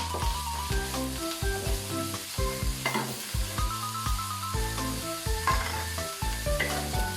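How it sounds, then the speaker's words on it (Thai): Garlic, then ginger, frying in hot oil in a pan, with a continuous sizzle and some stirring scrapes, mixed under prominent background music. "ทอดสักพักหนึ่งเราก็ใส่ขิงลงไปทอดเลยค่ะ"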